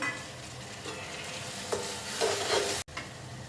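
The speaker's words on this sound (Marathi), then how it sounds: "कांदा आणि शिमला मिरची एखाद दुसरा मिनिट परतून घेऊया" Onion, capsicum and tomatoes sautéing in a pan, a continuous sizzle with spatula scrapes and stirring clatter, close up with no voices.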